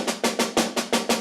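Drum stick double strokes played as seven crisp, evenly spaced hits in quick succession, each with a sharp attack and short decay, close and alone with no talking.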